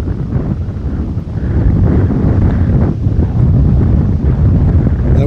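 Strong gusting wind roars and buffets the microphone on the Barnbougle Lost Farm golf course, growing louder after the first second and staying heavy, with no voices.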